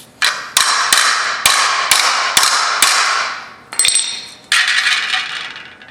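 Sharp metallic hammer blows strike car body metal in a test, about eight close, loud impacts in an uneven rhythm, each ringing briefly before the next.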